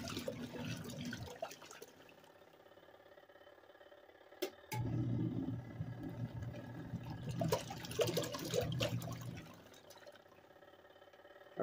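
A portable washing machine runs a wash cycle, with quiet bursts of water sloshing and churning that come and go between calmer, near-silent stretches.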